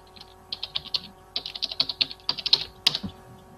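A website address is typed on a computer keyboard in quick bursts of close, crisp keystrokes with short pauses between, alone and fairly quiet.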